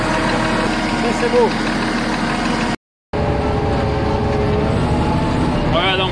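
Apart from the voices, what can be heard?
bulldozer diesel engine running after starting in the cold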